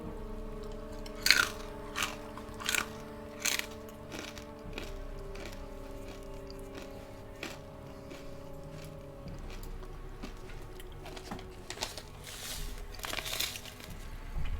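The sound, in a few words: chewing crunchy Corn Nuts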